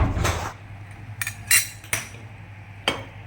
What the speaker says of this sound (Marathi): आता आपण कढई ठेवलेली आहे.